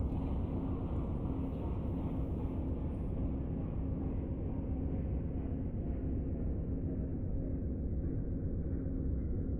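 A train in the Train Sim Classic game, running with Amtrak Horizon cars, slows to a stop, giving a steady low rumble and rolling drone that stays even and continuous, with high-end hiss gradually fading away.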